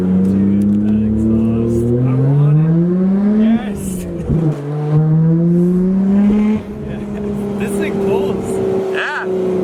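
Old car engine revved hard by a driver, rising and falling through several pulls over nearly ten seconds, loud and close, with people talking alongside.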